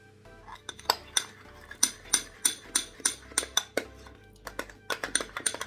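A utensil stirs caramel sauce with a little caramel flavoring for cake in a small bowl, clinking sharply against the sides in a quick, steady run of close, bright taps with no one speaking.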